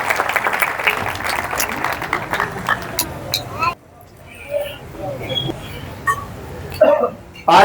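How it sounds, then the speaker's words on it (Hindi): A church congregation in Lahore breaks into applause, a lively clatter of many hands for a few seconds that cuts off abruptly, followed by quieter room noise and voices. "जोरदार तालियां पाखरू के लिए"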